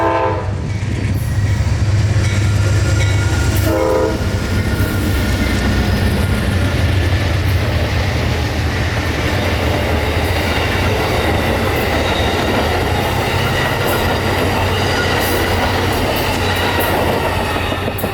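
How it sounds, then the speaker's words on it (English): Amtrak 91 passenger train powering out of a stop at South Lakeland, a loud close engine roar and rumble with a brief horn-like tone early on, then steady rolling wheel and rail noise building throughout. "91 with Mr. Aaron Carter at the controls, powering out of a stop here at South Lakeland to come into another stop at the Amtrak station in downtown."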